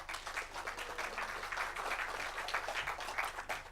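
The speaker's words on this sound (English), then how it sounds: "She deserves applause here." Audience applause at a press freedom conference opening session, steady clapping from many hands in a hall that carries on evenly at moderate volume, with no speech over it.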